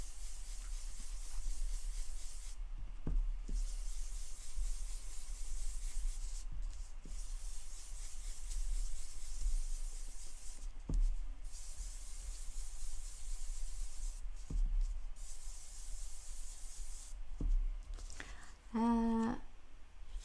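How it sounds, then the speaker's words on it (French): A blending brush rubs ink over card stock in steady, soft, close scrubbing strokes, with a faint hiss continuing under short pauses and a small clatter near the end. "avec ma brosse estompe, je suis venue mettre de l'encre partout sur mon carton."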